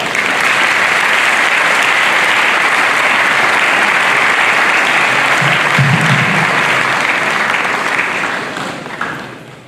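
Audience applause fills a graduation ceremony hall, a steady, dense roar of clapping from a large crowd lasting about eight seconds before tapering off at the end.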